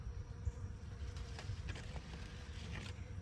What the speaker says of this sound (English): But the honeybees are just swarming around there.